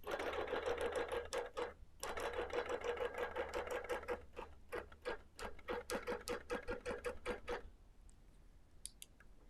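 A sewing machine stitches straight lines on a quilt, running in fast, steady bursts of close mechanical clatter that pauses briefly, then stops near the end.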